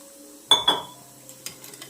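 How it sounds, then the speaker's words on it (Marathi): Horse gram flour being stirred into water to make a batter in a home kitchen, heard as two quick clinking knocks of utensil on a bowl followed by a few softer taps and scrapes. "जरा असं मिक्स करून घेते पाण्यामध्ये. अंदाजे पाणी घालून एक बॅटर तयार करून घेते"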